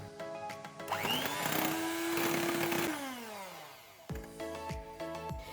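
An electric beater whips egg whites with powdered sugar for a floating custard pudding. The motor whirs loudly for about two seconds, then winds down in pitch, and a few clinking taps follow.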